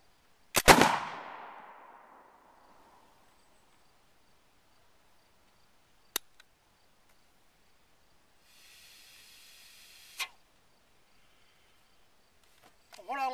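A smoothbore flintlock musket fires with one loud, sharp blast whose ringing tail fades over about two seconds, followed by long quiet stretches, a faint hiss and a few soft clicks.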